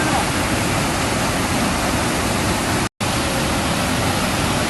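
Heavy rain pours steadily during a flood at the Gunung Pandan tourist area, a dense, loud hiss of water filling the whole stretch, broken only by a momentary cut near the middle.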